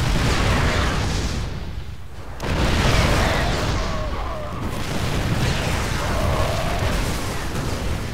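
Siege tanks firing and shells exploding in a StarCraft Terran-versus-Terran battle, a dense continuous roar of booms and bursts with no clear gaps.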